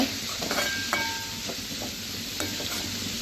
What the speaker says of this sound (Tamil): கலந்துக்கிட்டு நல்லா வதக்கி விட்டுக்கலாங்க